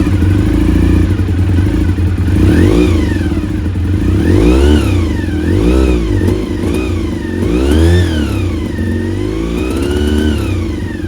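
Honda VFR400 NC30 motorcycle engine, mid-restoration and running without choke, fires up and revs repeatedly, the loud engine note rising and falling in several sharp sweeps over a steady rough idle, with no talking.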